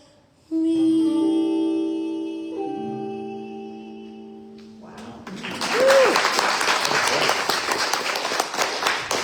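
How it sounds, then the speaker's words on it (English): A sustained chord from the end of a song rings out and fades, then an audience breaks into lively applause, a steady wash of clapping that continues to the end. "I think we need another applause here."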